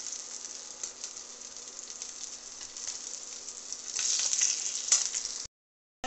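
Belly pieces of fish fry in oil with cumin, giving a steady sizzling crackle that grows louder and denser toward the end before a brief cut.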